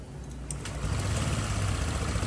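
A Honda Click 125 motorcycle engine idles steadily and close by, its low, even throb growing slightly louder after a brief click near the start.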